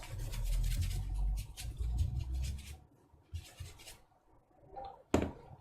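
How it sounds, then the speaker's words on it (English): A soft paintbrush sweeps across the trackpad of a non-Retina MacBook Pro during cleaning, making close, dry brushing and scratching strokes in short passes, ending with a sharp tap. "I'm just going to use a paintbrush just to give that a bit of a brush down"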